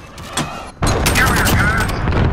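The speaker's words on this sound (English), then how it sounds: "Hello, cruise missile away." A cruise missile launches in a video game, a short thud followed by a sudden loud, sustained rushing roar of the launch that fills the rest of the moment.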